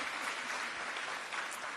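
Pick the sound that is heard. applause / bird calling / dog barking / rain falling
applause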